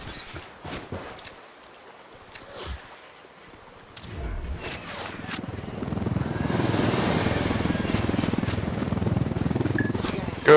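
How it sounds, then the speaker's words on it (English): A helicopter in the video game Ghost Recon Wildlands spools up and flies, a loud, steady rotor and engine roar building from about four seconds in after quieter game sounds, continuing strongly to the end. "Go, helicopter, go!"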